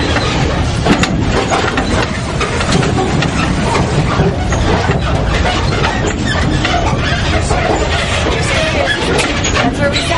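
The Little Red Train tour vehicle rolls along in St. Augustine, Florida, a loud continuous rumble and rattle heard from on board, steady for the whole stretch.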